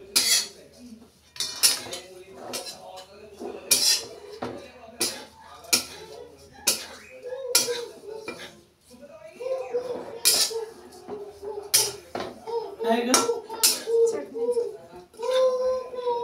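Coconut halves are stirred while dry-roasting in a pan at home. A spoon clinks and scrapes against the metal repeatedly and irregularly, with people talking over much of it.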